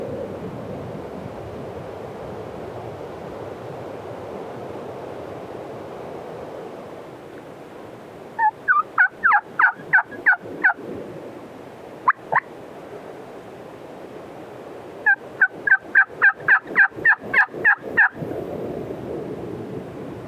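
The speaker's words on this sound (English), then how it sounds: "I think that's the gobbler up there." Two bursts of rapid wild turkey gobbling at a distance, a gobbler's quick rattling series of notes each time, separated by a pause, over a steady breezy background.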